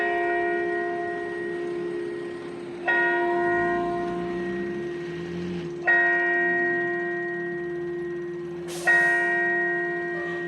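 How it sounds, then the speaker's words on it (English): A clock tower strikes the hour with three loud bell strikes spaced a few seconds apart, each ringing out and slowly decaying, with a sustained tonal hum between them. "Love to hear those chimes."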